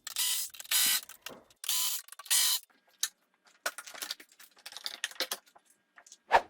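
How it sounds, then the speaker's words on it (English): A ratchet wrench removes 10mm screws from a plastic radiator hold-down on a C6 Corvette, with short bursts of rapid clicking followed by quieter scattered clicks and handling noises up close. "that starts with removing 2 10mm screws on each side"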